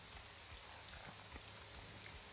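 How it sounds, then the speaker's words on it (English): Steady rain falling in the town of Balmora in the video game Morrowind, a constant even hiss with light patter throughout, no voices. "it seems to be always raining in Balmora"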